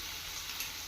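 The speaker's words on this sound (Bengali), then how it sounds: "একটু নেড়ে চেড়ে নিলাম" Vegetables for Bengali veg dal sizzle steadily in a hot pan while being stirred, a continuous close hiss with no voices.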